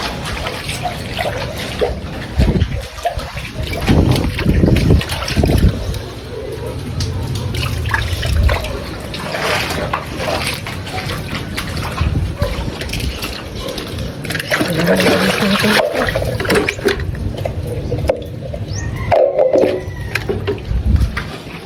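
Floodwater rushes steadily through a roadside drainage channel after Super Typhoon Uwan, a continuous close, loud flow with a person talking over it.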